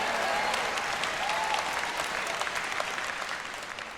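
A church congregation breaks into applause after a sermon about Jesus, a dense, sustained wash of many hands clapping that fades slightly toward the end.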